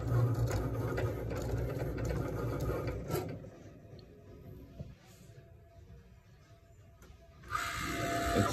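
A Cricut Maker cutting a sticker outline makes a whirring, buzzing motor sound with small mechanical clicks, loudest in the first three seconds, quieter in the middle and rising again near the end, with no talk.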